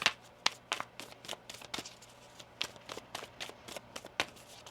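Someone shuffling a deck of tarot cards by hand, close and quiet: a rapid irregular string of crisp papery riffles and taps, with no talk.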